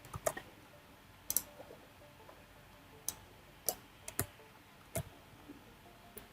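A computer mouse clicks in structural design software, about nine sharp, isolated clicks spread irregularly over several seconds against a quiet background.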